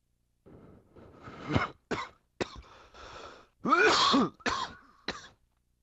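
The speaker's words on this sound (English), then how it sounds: "My bad for coughing." Several rough throat-clearing coughs close to the mic, in uneven bursts with short gaps, one longer hacking fit in the middle, otherwise quiet between them.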